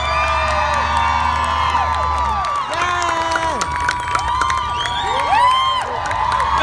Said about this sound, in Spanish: Un gran aplauso, por favor, a Fer Olvera.